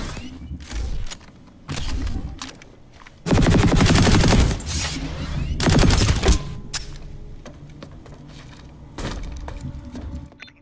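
Planetside 2 gunfire rings out in bursts: a few short volleys, then a long sustained automatic stream with sharp, shattering impacts, followed by scattered single shots and quieter lulls.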